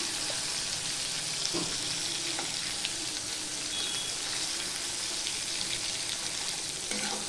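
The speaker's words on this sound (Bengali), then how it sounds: "টমেটোটা দিয়ে আমি মিনিট খানিক নেড়ে নিলাম" Tomatoes fry in a pan for a vegetarian dal, giving a soft, continuous sizzle with faint stirring scrapes, close and unbroken, with no talk.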